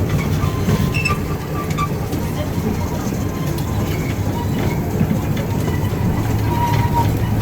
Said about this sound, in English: So this is a pretty long train ride